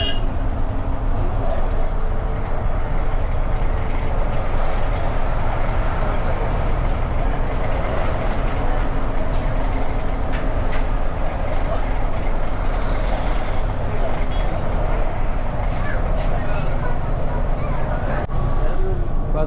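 A low-floor city bus on the Trichy route from Panjapur to Samayapuram, its engine rumbling steadily from inside the cabin with rattles and road noise throughout, without pause.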